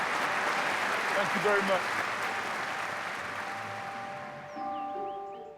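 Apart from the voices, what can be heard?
audience applause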